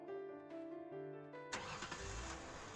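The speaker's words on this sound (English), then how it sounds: "I closed the door, and immediately the driver revved the engine." A car engine in a visual novel scene catches and revs after a soft musical passage, a sudden loud burst of engine noise that keeps running to the end.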